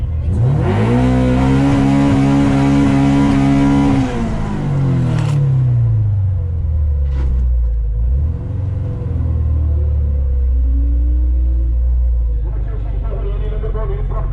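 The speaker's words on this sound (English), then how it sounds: "Honda Civic B20VTEC. Prachtige karretjie. Sal op ry." Honda Civic with a B20 VTEC engine launching on a drag strip, loud and close, revving high before the engine note drops as the car pulls away, with a voice talking over it.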